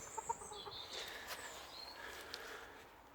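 Bantam chickens in a farm pen cluck softly in a few short, scattered calls, close but quiet, with some high chirps and light rustling and no talking.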